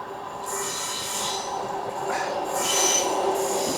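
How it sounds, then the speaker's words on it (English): A train passes nearby on the Maritime Line in Cornwall with a broad rushing rumble and high metallic squeals rising and fading in waves. No voices are heard. "Train."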